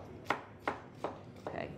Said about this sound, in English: you just chop it, and you get these little pieces